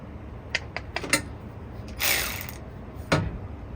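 Fasteners pushed onto a fan shroud of a Jeep Cherokee XJ give a few sharp, separate clicks and snaps, then a brief plastic scrape and one last click, close and fairly quiet with no talk.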